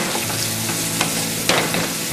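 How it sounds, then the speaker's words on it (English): Mushrooms sautéing in a pan give a steady close sizzle as a utensil stirs them, with a couple of sharper scraping strokes near the end. "Okay, we're going to give this a stir."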